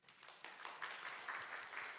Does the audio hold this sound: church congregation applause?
yes